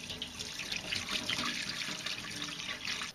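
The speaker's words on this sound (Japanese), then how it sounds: "こちらのお腹の中ね、これはねちょっとね流水できれいに洗った方がいいかもしれないですね" Running tap water pours steadily into a sink while a mackerel's belly cavity is rinsed, a continuous close splashing rush with light trickles and no talking.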